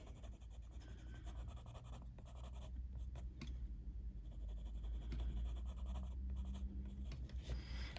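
Lightfast coloured pencil scratching across paper while shading a portrait, a soft continuous scritching of short repeated strokes, close and quiet over a low background hum, with no speech.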